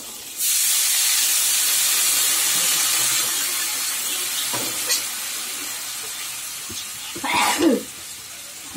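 Water poured into a hot pan after chilli tempering gives a sudden loud hiss of steam that holds steady for several seconds, then fades, with a brief sputtering burst near the end and no talk.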